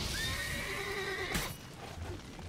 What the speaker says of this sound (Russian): Здесь лошади, кстати, дикие. Могут нас раздавить.